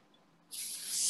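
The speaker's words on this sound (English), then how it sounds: "spray my pan." Cooking spray is sprayed onto a baking pan for cornbread in a kitchen: a sudden, sustained hiss that starts halfway through and grows slightly louder to the end, heard alone and close.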